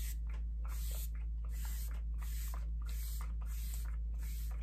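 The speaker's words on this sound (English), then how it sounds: "So I'm gonna use a little bit of the Colourpop Pretty Fresh Mist" Colourpop Pretty Fresh Mist face mist sprayed onto the face in a rapid series of about seven short, soft hissing spritzes, fairly quiet and close.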